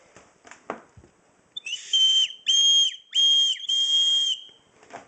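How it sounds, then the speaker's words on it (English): Survival whistle made from a can, blown in four short, piercing high-pitched blasts with brief gaps, very loud and close, after a few soft handling noises. "it's a very, very loud, effective whistle."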